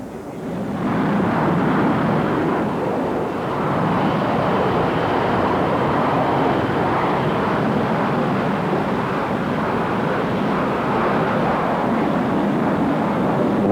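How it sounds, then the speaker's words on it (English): A military jet takes off during Operation Desert Storm, bound north toward Iraq, with a loud, steady, broadband engine roar that rises within the first second and holds for about thirteen seconds, with no talking. "Let's look and listen for a moment as one of the planes took off north to Iraq."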